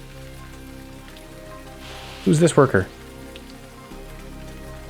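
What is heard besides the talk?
rain in the video game DotAGE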